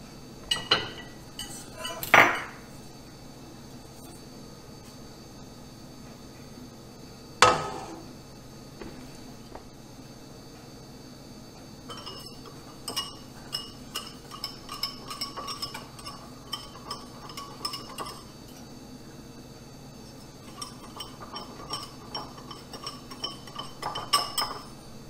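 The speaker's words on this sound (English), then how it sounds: "My milk and sugar has reached a simmer, so I'm going to shut this off and begin to temper my eggs." Metal utensils and dishes clink in a home kitchen while eggs are tempered with hot goat milk and sugar for ice cream: a few sharp clanks early on, then a long run of light, scattered taps and clinks.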